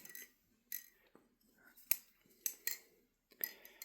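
A MachineWise Tottori balisong trainer flipped by hand, a series of sharp, close metallic clicks and clacks in irregular bursts separated by brief quiet gaps, with no speech.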